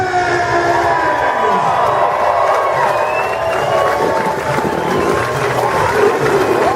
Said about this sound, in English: let's give a big round of applause one more time for the Royal Pains!